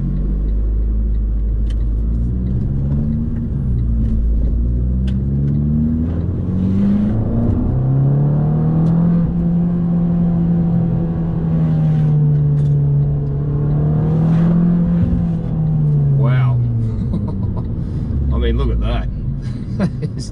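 Fiat Abarth 695 Tributo Ferrari engine under way, a steady low drone with rising and falling pitch as it pulls through the revs, loud and close inside the cabin, with someone talking over it.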